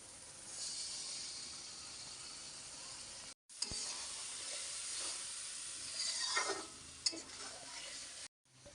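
Tomato and spices frying in hot oil in a pan, a steady broad sizzle with scraping stir strokes, two brief drops to near silence, and a few sharper clinks near the end; no voices.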